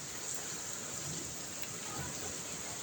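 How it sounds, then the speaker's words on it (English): Heavy rain falls on a road in a steady, even hiss with no breaks, heard close and moderately loud. "The road is slowly getting wet."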